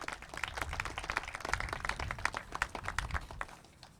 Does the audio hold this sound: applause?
yes